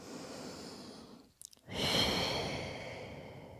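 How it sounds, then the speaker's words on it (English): Deep breathing during a Pilates session: a long audible exhale, a brief pause with a quick catch of breath, then a full, loud breath close to the mic that slowly fades. "Take a couple of big deep breaths."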